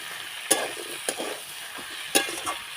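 Malabar spinach (pui shak), salted, fries in oil for a tel chorchori, a steady close sizzle broken by sharp spatula scrapes and clinks against the pan.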